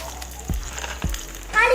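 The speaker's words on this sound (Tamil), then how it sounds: "வதக்கிக்கலாம்." Onion and garlic are sautéed in a miniature pan with mustard seeds, giving a soft, close sizzle with two dull low taps, and a brief voice near the end.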